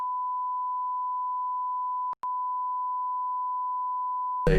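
A steady censor bleep tone runs for about four seconds, broken once by a brief crackly gap, then a voice cuts in right at the end.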